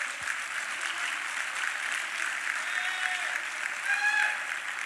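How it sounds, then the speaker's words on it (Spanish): Church congregation at Teatro Vallarta applauding, a steady wash of clapping from a crowd, moderately distant and continuous for several seconds. "Dale un aplauso a Dios."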